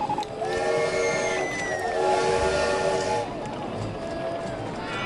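A roller coaster train runs along its track in RollerCoaster Tycoon, a rumbling rolling sound with a high whistling whine sliding across it, moderately loud, while a person talks over it.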